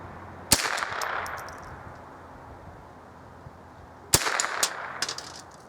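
Two sharp Remington Nylon 66 rifle shots ring out a few seconds apart at a distant swinging target, each crack followed by a brief ringing clang and short echo, with no talking.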